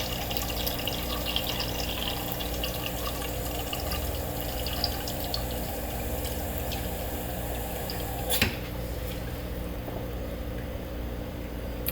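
Kitchen faucet on a newly fitted tankless instant hot water sink runs steadily and loudly, sputtering as trapped air bubbles clear from the line, with a sharp clunk near the end and no talk.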